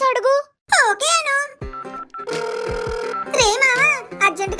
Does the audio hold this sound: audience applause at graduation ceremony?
no